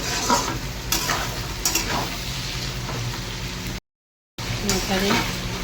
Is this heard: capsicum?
yes